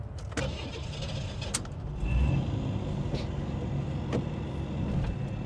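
A cold Chevrolet Citation idles roughly while being loaded onto a trailer, a low uneven rumble with a few sharp knocks and clicks. It sounds close but fairly quiet, with no talking.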